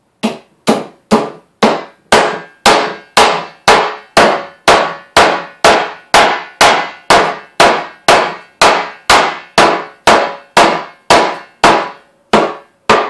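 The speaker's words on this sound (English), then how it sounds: "basically hammer it right into the wood" Metal hammered into wood while building a Viking round shield: about twenty-six sharp, loud, evenly spaced blows, roughly two per second, each ringing briefly, with no talking.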